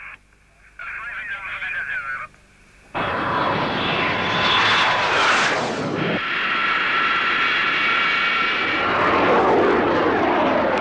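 Military fixed-wing strike aircraft of the Sultan's Air Force, flown by British pilots against guerrilla positions in Oman's Dhofar, roar loudly and continuously overhead with rising and falling engine pitch, after a brief stretch of radio chatter at the start.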